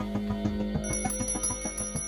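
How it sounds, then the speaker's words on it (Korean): An exorcist's small spirit bell rings repeatedly in a house, a rapid run of bright metallic chimes struck in quick, slightly irregular succession, close and clear. "집안 곳곳 신의 종이 울리기 시작한다"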